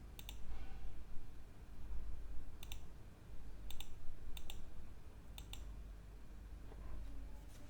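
Soft, close keystrokes from a computer keyboard while entering data into an Excel inventory sheet, sparse clicks in short bursts over a low, steady room hum, no voices.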